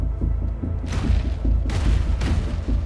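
Tranquilizer dart shots fired in the game Ark, a few sharp bursts over a constant deep rumbling thump-heavy game soundscape, loud and close, with no talking.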